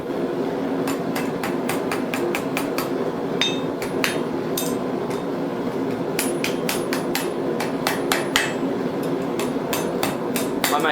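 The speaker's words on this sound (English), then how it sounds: "drop the cloak pin over the edge and start tapping that down" A blacksmith's hammer taps a hot iron penannular cloak pin against an anvil in a quick, steady run of bright, ringing metallic strikes over a constant low background hum.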